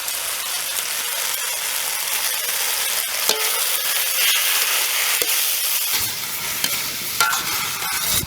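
Onion and tomato sautéing in a pan for a village-style pepper chicken dish, with a dense continuous sizzle and repeated stirring scrapes, close up and loud, no voices.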